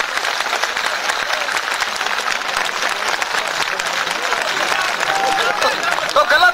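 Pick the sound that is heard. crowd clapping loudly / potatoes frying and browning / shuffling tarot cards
crowd clapping loudly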